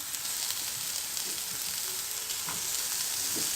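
Kofta meatballs and onion sizzle and fry in a pot, a steady, close crackling hiss with occasional soft stirring knocks and no voices.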